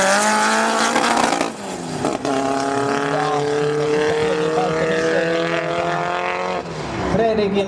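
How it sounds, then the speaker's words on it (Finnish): A Volkswagen Beetle drag racer roars loudly from the start line at a 2010 drag race in Vaasa, its engine note climbing and sustained for several seconds under a commentator's talk. "Viime kisassa hurja keulia näyttänyt Fredrik Grönlundin Volkkari Kirppu"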